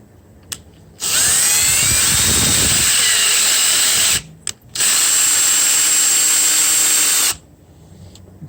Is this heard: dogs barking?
no